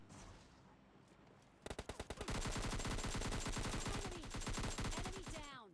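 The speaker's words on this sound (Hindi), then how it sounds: "यहाँ पे नंबर 2 को बैठाने के बाद सामने फायर के साउंड आते हैं" Gunfire in the mobile game PUBG Mobile Lite: a few separate shots, then a long, rapid, steady automatic burst, loud and close, cutting off at the end.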